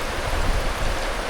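Deep river water rushing and churning steadily at a crossing point, a continuous broadband wash close by with no pauses.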